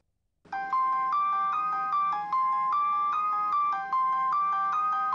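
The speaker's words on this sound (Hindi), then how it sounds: "फोन बज रहा था" A phone rings in a home, playing a loud, close melodic ringtone as a repeating pattern of bright electronic notes. The tune loops steadily for about five seconds with no voices.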